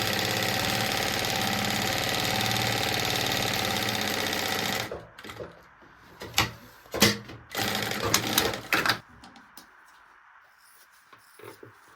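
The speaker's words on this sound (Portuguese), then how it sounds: "Aqui eu tô fazendo uma costurinha de segurança." A sewing machine runs a steady, loud whirring safety seam on a maternity bag for about five seconds, then stops, followed by scattered clicks, fabric handling and a brief second burst of stitching before near quiet.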